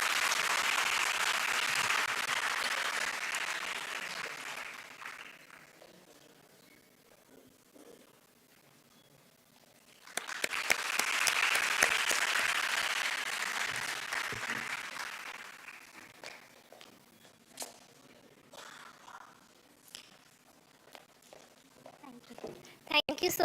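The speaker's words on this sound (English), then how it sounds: "Big round of applause." Audience applause at a KIIT University youth entrepreneurship event in Odisha, a loud, full burst of clapping that fades, then a second swell of applause, with scattered claps and room noise between.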